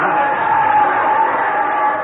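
A studio audience at a radio comedy show roars and cheers as a baseball crowd, a loud dense wash of voices held steady for two seconds.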